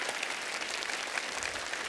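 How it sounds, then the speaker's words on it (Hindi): A studio audience at the Kapil Sharma Show, a televised comedy talk show, claps steadily; the applause is a soft, even patter with no voices over it. "एक बार जोरदार तालियां हो जाए"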